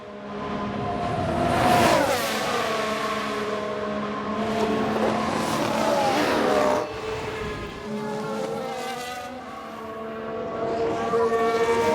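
Race car engines from the F1 Manager video game, including an Aston Martin, drone and whine at high revs as cars pass, with shifting pitch and overlapping engine tones, loud and continuous throughout.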